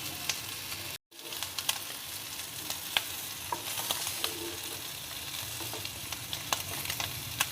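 Egg paneer fries in a pan, a steady crackling sizzle with scattered pops and the scrape of stirring, alone with no talk and broken by a brief cut near the start.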